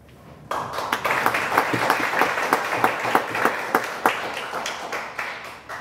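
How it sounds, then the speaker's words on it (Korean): Applause from an audience, a steady wash of many hands clapping with sharper individual claps standing out, starting abruptly and continuing without voices. "서용원 우리 박사님 일어나셔서 인사하실 때 박수 한번 해주시면 감사하겠습니다."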